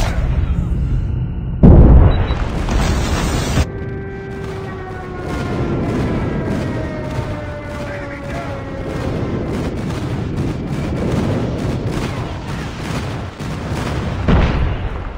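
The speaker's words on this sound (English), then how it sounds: "Friendly airstrike incoming." Airstrike explosions in the Call of Duty video game rumble as heavy booms with long rolling tails, beginning with a loud burst and followed by sustained low blasts and crackling debris under faint game voices.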